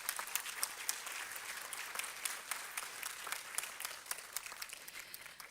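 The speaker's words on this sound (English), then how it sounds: "So big round of applause to your children who were managing the stage with props." A quiet round of audience applause at a Grade I school show, many hands clapping in a steady, slightly uneven patter with no voices over it.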